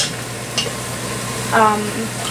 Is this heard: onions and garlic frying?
yes